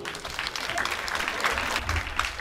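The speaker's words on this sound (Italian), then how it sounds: "Un applauso." An audience applauds at a Marian song festival held in a parish setting, producing brisk, moderately loud clapping that carries steadily through the moment with no talk over it.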